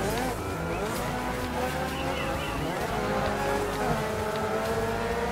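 Several race cars in the DiRT 3 racing game roar together, their engines rising and falling in pitch with overlapping harmonic sweeps, steady and loud throughout with no speech.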